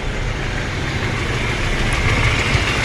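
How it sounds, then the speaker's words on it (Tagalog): A Toyota Tamaraw FX engine idles after a carburetor overhaul, a steady loud rumble with a continuous low hum and no talk over it. "Ang ganda ng lakas ng makina niya oh. Ito. Idle ko guys."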